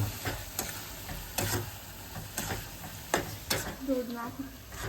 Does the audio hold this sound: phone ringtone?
no